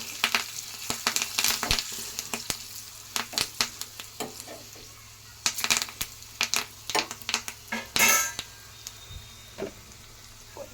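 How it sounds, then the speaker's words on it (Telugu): Leftover rice with turmeric is stirred in a frying pan for garlic rice: a quiet, steady sizzle broken by irregular scraping and stirring clatters, with one sharper scrape near the end. "పసుపు, కొంచెం పసుపు వేసి ఇలా కలపాలి."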